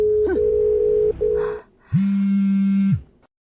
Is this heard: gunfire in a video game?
no